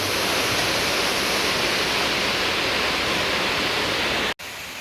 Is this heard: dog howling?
no